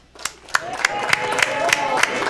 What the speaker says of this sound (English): Give Natasha a big round of applause